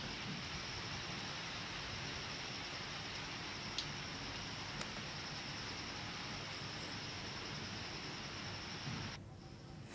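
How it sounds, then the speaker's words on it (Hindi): Heavy pre-monsoon rain in Uttarakhand pours as a steady, dense hiss of drops with a few faint ticks, continuous and fairly soft, with no talk. "तस्वीरें भी आपको दिखा रहे हैं बारिश की।"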